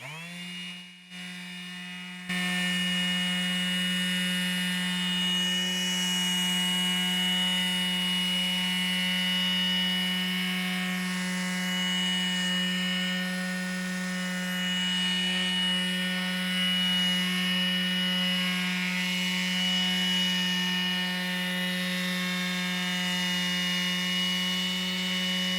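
A Skil PowerCore 12v detail sander runs steadily with 240-grit paper on wood. It gives a loud, continuous buzzing drone with a strong tonal hum, and a brief quieter moment comes before the sanding noise fills in.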